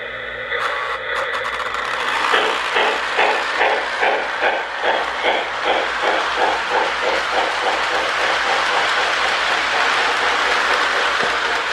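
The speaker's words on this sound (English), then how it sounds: "I also have a Lionel train sounds tender hooked up to it" A Lionel 2029 model train runs along the track with a Lionel sound tender, loud rhythmic chuffing and clickety-clack, a steady engine rumble underneath, close and continuous.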